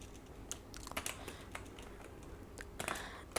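Quick bursts of keystrokes on a computer keyboard while Python conditional code is typed, light irregular clicks close by with short pauses and a faster flurry near the end, no voices.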